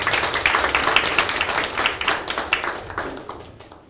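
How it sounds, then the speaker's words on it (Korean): Clapping from an audience thanking two speakers at a tech exchange talk concert in Seongnam, a close, fairly loud burst of hands that gradually thins and fades over a few seconds. "앞에 계신 두 분께 다시 한번 큰 박수 부탁드리도록 하겠습니다."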